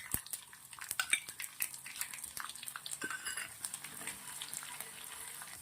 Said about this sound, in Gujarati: રાઈ જીરું સરસ ચટકી રહ્યું છે